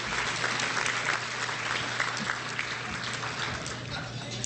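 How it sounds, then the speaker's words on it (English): Diners applaud at an evening dinner in Texas, a sustained round of clapping with some crowd murmur mixed in and a constant low hum underneath. "Let's give a big round of applause to this wonderful meal that we're eating tonight."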